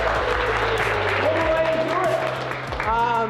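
Applause from a gathered crowd at a brunch event, continuous clapping mixed with voices and cheering, some speech rising over it near the end.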